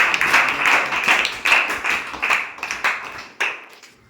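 An audience at a Ramayana rapid-questions quiz claps after a correct answer. Individual sharp claps come in a loose, uneven patter that thins out toward the end.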